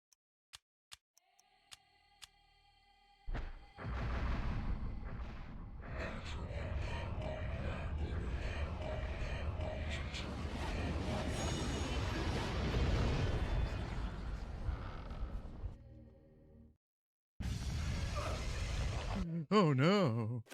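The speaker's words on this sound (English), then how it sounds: "Max level explosion." A max-level explosion spell in the video game Eternal Darkness: Sanity's Requiem erupts in a long, loud, booming rumble with crackling texture that lasts over ten seconds, drops to silence, then resumes in bursts, with talk over it.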